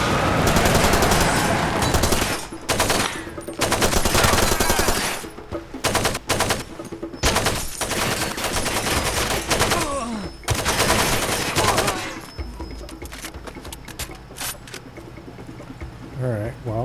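Enemy gunfire erupts in Far Cry 2, with loud, dense bursts of rifle and machine-gun shots, broken by brief pauses and continuing less intensely toward the end.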